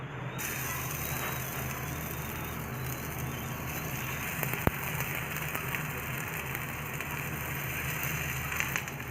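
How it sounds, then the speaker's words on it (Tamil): Poha potato cutlets shallow frying in oil on a dosa pan, a steady, close crackling sizzle that stays even throughout with a couple of faint clicks, no voices. "இப்போ வந்து தோசைக்கல்ல நம்ம இதை வந்து ஷாலோ ஃப்ரை பண்ணிக்கலாம்"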